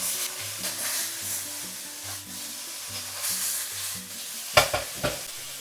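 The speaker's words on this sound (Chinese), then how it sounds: "接着淋入少許生抽，翻炒均勻，炒出醬香味" Minced meat stir-fried in a wok with a splash of light soy sauce, for a dish with green beans; close, continuous sizzling under rhythmic spatula strokes, ending with a couple of sharp metallic clanks.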